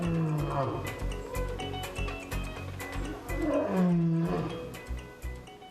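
A lion roars during a veterinary dental exam in deep, rumbling pulses, close and loud, with a series of grunting bursts rising and falling.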